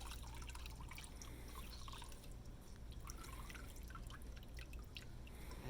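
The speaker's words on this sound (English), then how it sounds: "squeeze out the excess water." Water dripping and trickling from a squeezed Hizero cleaning roller, scattered drips and splashes over a steady low rumble, faint and continuous with no talking.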